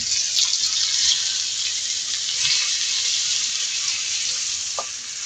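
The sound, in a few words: chicken milanesa frying in a pan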